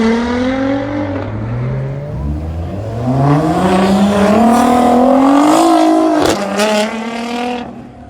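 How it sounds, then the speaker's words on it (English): A loud modified Nissan GT-R pulls away from a car meet, its engine note climbing through several revving gear pulls, growing louder as it nears and then fading with a sharp pop mid-run. "I've got some unique footage of Ryan leaving various car meets"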